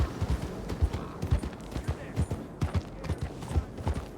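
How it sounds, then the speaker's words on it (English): Donkey hooves clip-clop in a video game with a steady, rhythmic run of close, moderately loud hoofbeats that carries through the whole stretch. "Donkey."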